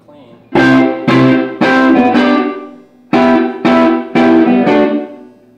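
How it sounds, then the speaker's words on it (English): Heavily distorted electric guitar chords struck in two groups of three, each ringing briefly with a thick, saturated tone, separated by a short pause. "But then I hit the distortion pedal"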